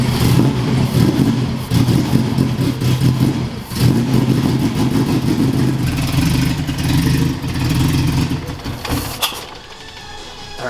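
A Honda EG hatchback with a K-series engine swap runs in a garage, its engine idling roughly and rising and falling as the throttle is blipped over about ten seconds, with a clattery mid-range rumble and no talking.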